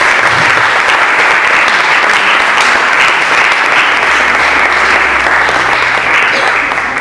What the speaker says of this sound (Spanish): den un gran aplauso a nuestro Rey